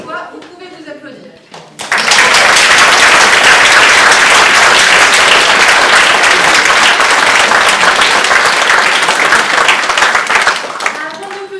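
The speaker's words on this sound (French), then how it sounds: "vous pouvez vous applaudir" Theatre audience breaks into loud, sustained applause after a short stretch of talk, the dense clapping holding steady for about ten seconds before easing as voices return.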